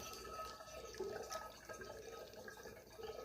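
Honey and water mixture pouring into a 3-gallon glass carboy for mead, a soft continuous splashing trickle with faint dripping, quiet and close, no voices.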